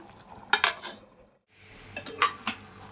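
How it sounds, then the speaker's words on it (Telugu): A lid set on a pot of jackfruit seed curry: two clattering metal knocks close by, a short lull, then more scraping and ringing clinks of metal on the pot, with no speech. "దీన్ని మూత పెట్టేసి ఉడికించుకుందాం లో ఫ్లేమ్లో"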